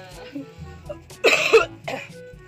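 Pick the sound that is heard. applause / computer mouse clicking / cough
cough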